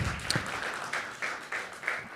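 Faint, brief applause at a project-pitch final event, a light scattering of claps with a few sharper individual hits, heard at a distance.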